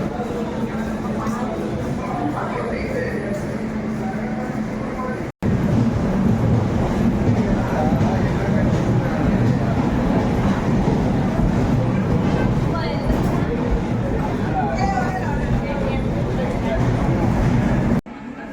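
A train at Tirunelveli Junction railway station makes a steady, loud rolling rumble throughout, briefly cut near the start, with people talking over it.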